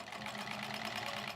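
A sewing machine runs steadily for a moment, stitching patchwork sashing pieces together with a quiet, even mechanical whir and no pauses.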